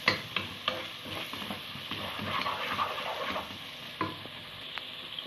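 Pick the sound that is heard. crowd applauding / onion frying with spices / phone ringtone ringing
onion frying with spices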